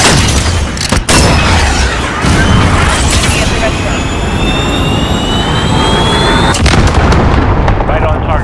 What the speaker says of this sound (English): Target marked. Send it. Missile away.